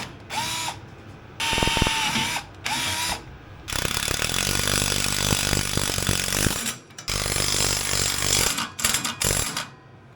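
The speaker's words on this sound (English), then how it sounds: "I've got some pretty decent tech screws I'm going to try to run in there" A power drill drives tech screws into steel on a John Deere 47 snowblower, starting with short whirring bursts and then running in a long, loud stretch with brief pauses, close up and with no talk.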